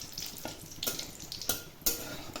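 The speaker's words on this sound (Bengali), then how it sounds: "এবার ফোড়নটা হালকা একটু লাল লাল করে ভাজা করে নেব।" Whole garam masala, bay leaves and dried red chillies crackle gently in hot oil for a ghugni tempering, a quiet sizzle punctuated by several sharp pops and clinks spaced across the clip, no talking.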